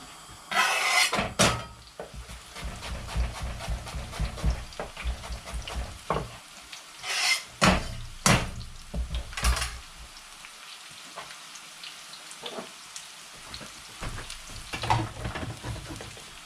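Chicken pieces frying in hot oil in a pan for malai curry, a steady sizzle broken by loud scraping stirs and clatter of the spoon against the pan, close up with no talking.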